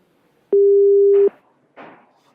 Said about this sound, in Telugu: ఫోన్ లైన్ కట్ అయినట్టుంది